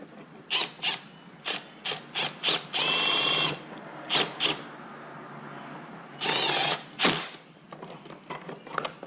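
A power tool drives bolts into a walk-behind weed trimmer, short whirring bursts and two longer ratcheting runs, each separated by quiet pauses, up close.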